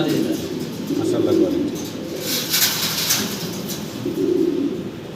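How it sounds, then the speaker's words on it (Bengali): Fancy pigeons, including crested and black checker birds kept for sale, coo in low repeated rolling phrases at close range over a steady background murmur, with voices talking nearby. "আমরা এখানে আরও দুই পিস মুন্ডি কবুতর দেখতে পাচ্ছি"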